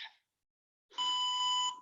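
During a live evening kettlebell and dumbbell workout, an interval timer gives a brief electronic beep, then after a short silence a longer, steady tone lasting under a second. The sound is clean and fairly quiet.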